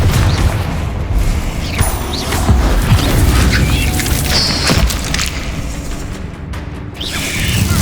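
Spell explosions and combat blasts from Hogwarts Legacy rumble through a dense, loud mix of booms, crashes and thuds, layered continuously without a clean gap, with game music and effects underneath.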